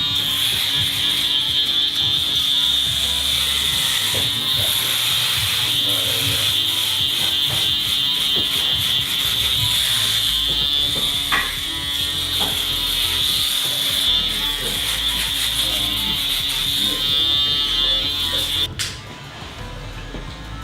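Cordless US Pro Allies hair clippers with a magnetic number 2 guard buzz steadily up close while cutting a fade, a constant high whine with small shifts as they move through hair, then cutting out near the end.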